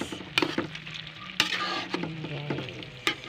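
Chicken adobo being stirred in a frying pan, with a steady sizzle under sharp, irregular scrapes and knocks of the utensil against the pan, close and fairly loud, no talking.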